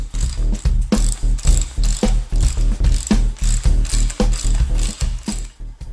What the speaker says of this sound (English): I compressed the new H&R spring so it could be installed on the strut